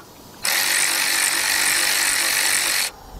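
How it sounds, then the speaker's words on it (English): A big bill ratchet with a T45 socket loosens a brake caliper bolt on a 1997 Ford Expedition with the 4.6 engine, giving one loud, steady rasping burst of a little over two seconds, close up, with no talk. "now what I'm gonna do is grab my big bill ratchet"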